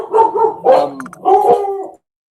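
A dog barks loudly and close by in three quick yelping, slightly howling bursts, then goes quiet.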